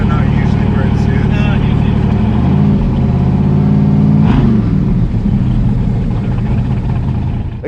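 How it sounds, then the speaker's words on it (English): A car engine in neutral with a sticking accelerator revs and holds, its pitch rising and falling in loud, close surges before settling into a steady run. "throwing it into neutral, and tapping the accelerator"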